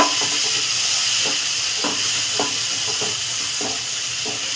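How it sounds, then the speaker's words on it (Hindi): Tomato and onion frying in a pan, with a loud, steady hiss of sizzling oil close by and soft rhythmic scrapes of a spoon stirring roughly every half second, with no talking. "टमाटर को फ्राई कर लेंगे"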